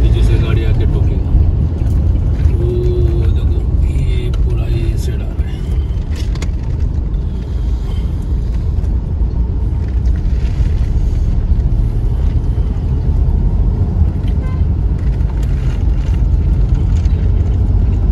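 A car cruises along the Delhi–Mumbai expressway, its engine and tyres making a steady low rumble the whole way while someone talks over the road noise.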